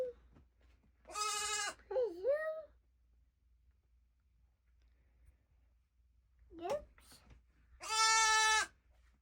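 Bottle-fed lamb bleats loudly and close, two long wavering cries separated by quiet, with softer vocal sounds in between.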